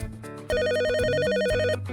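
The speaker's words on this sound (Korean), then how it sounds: "하루가 넘어가면 어김없이 건물 주인의 전화가 울렸습니다." A telephone rings in a loud, steady electronic trill with rapid alternating tones. Faint tones come first, then the full ring carries on for over a second with no voices.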